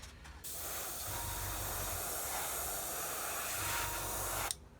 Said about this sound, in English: so spray across the front of the engines.